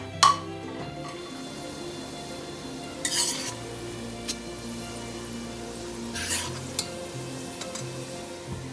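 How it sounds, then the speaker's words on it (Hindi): Chopped onions sizzle steadily in hot oil for a Pakistani aloo gosht, with a few sharp scraping stirs of a spoon against the pot cutting through the constant frying hiss. "और इसमें हम डाल देंगे ये प्याज और इनको ब्राउन करेंगे।"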